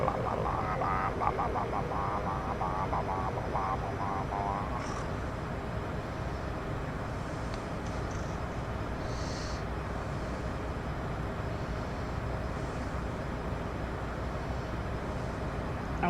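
Steady airliner engine drone inside the cabin or cockpit of a Delta jet in Flight Simulator 2024, flying from Orlando to Nassau: a continuous broadband rumble with a faint tonal whine, unbroken for the whole stretch with no talk.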